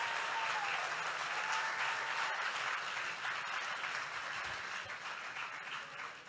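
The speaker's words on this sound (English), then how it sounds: "And a round of applause for all of our contestants." Steady audience applause for contestants at the Ms Veteran America pageant, a dense even patter of many hands clapping at moderate distance, sustained for several seconds without a break.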